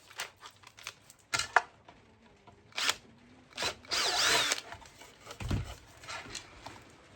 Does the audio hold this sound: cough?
no